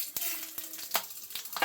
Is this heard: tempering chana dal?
yes